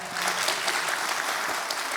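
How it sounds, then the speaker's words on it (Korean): Dense, steady applause fills the hall from a concert audience at the 81st Patriotic Martyrs' Day memorial concert in Aayang Hall, Aayang Art Center, Daegu. It is loud and continuous throughout, with no talk on top. "여러분들의 뜨겁고 힘찬 박수와 함께 이 음악회를 시작한다면 더 의미가 있지 않을까 생각합니다"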